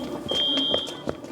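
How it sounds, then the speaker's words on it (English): A fire alarm blares steadily in an office, a single piercing electronic tone held for nearly a second, with scattered commotion and faint movement around it. "As the fire alarm blares overhead, the office stirs with nervous commotion."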